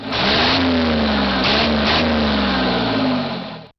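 A Detroit Diesel 6V71 two-stroke V6 diesel engine revs hard and close, a loud sustained roar with the pitch rising and dipping as the throttle is worked, then cutting off abruptly.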